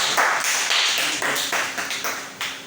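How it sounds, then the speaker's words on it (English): Audience applause for a young speaker at an evening session for young politicians: a dense, steady patter of many hands with a few stronger surges, filling the whole moment. "Round of applause for you."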